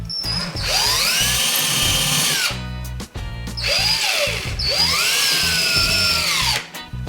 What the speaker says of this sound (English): After I drill the hole, I'll put these little anchors in there.